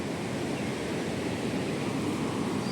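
Sea waves on the Ganpatipule coast in Ratnagiri make a steady, continuous roar of surf near a damaged sea wall. No voices are heard over the unbroken wash of water.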